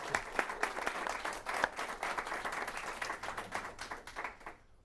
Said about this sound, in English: let's give this incredible team a round of applause